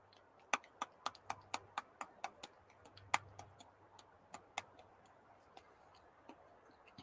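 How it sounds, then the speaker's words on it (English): Teeth gently clacked together by hand, a run of quick, faint, evenly spaced clicks that slows and thins out, close and quiet. "now I want you to gently, at first, clack the teeth together using your hand"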